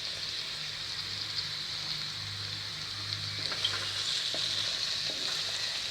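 Okra frying in oil with turmeric and chili powder, a steady soft hiss and crackle that stays even throughout, close by, with faint occasional taps.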